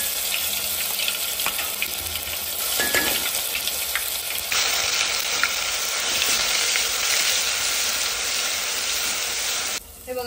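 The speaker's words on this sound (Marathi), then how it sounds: "हे बघा अद्रक लसूणची पेस्ट आपली चांगली तेलामध्ये भाजली आहे" Ginger garlic paste sizzles steadily in hot oil in a cooking pot for chicken curry, a dense continuous frying hiss with occasional stirring scrapes, close and loud with no talking.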